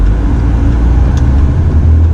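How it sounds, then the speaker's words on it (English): A 2018 Subaru Outback taking a corner at speed: a steady, loud low rumble of engine and road noise fills the cabin for the whole stretch, with no voices. "So I'm taking this corner faster than it might look, and the car just hugs the road."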